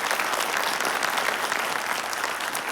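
A studio audience claps at a talk-show taping, dense and continuous applause from many hands, loud and close, holding steady without letup and no voices on top.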